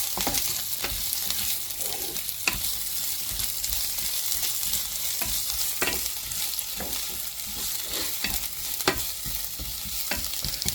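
Sliced onions sautéing in hot oil for Tamil-style crab soup, a steady close sizzle with repeated scrapes and clinks of a spoon stirring through the pan.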